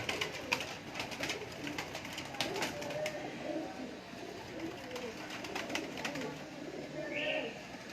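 A Batera pigeon on a rooftop coos softly in low repeated calls amid background rustling and scattered clicks, with faint voices around.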